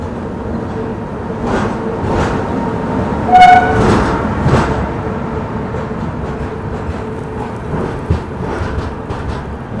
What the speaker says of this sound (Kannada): ಅದು CSMT ಮುಂಬೈಯಿಂದ ನಾಗರ್ಕೋಲಿಗೆ ಹೋಗುವ ಟ್ರೈನ್ ಜೊತೆ ನಮ್ಮದು ವಾಡಿ ಜಂಕ್ಷನಲ್ಲಿ ಕ್ರಾಸಿಂಗ್ ಆಗ್ತಿದೆ.